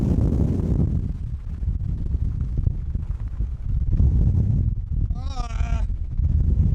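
Strong wind buffets loudly and continuously on a mountain path up Snowdon at night, with gusty roaring and a brief shout near the end.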